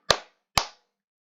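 Two sharp, evenly spaced hand claps for the 'tepuk siang' clapping game, close and loud with silence between and after.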